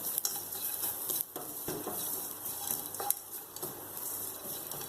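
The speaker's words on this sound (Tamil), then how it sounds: "தேங்காவும் நல்லா வறுபடட்டும்." Coconut and garam masala spices roast in a pan for mutton saalna, giving a soft, continuous dry sizzle with scattered scrapes and taps of a spoon on metal.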